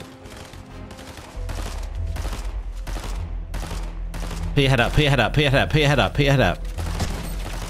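Sniper gunshots in the Fortnite video game, a run of sharp, loud cracks spaced across the clip, some of them close together, heard under someone talking and a steady low hum of game sound.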